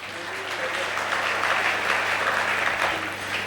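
An audience in a hall applauds, a dense, steady wash of clapping that holds at even loudness for several seconds, with a faint voice underneath.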